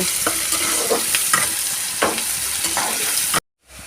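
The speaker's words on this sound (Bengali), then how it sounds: "দিয়ে ভালো করে একটু বাদামি কালার করে ভেজে নেব" Onions sizzling as they fry to brown in a pan for a thin magur catfish curry, a steady loud hiss broken by several scraping stirs of a spatula, then cutting off abruptly near the end.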